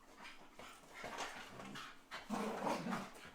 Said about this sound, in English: Sorry about the rambunctious dogs.